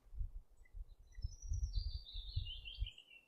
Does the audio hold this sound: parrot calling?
yes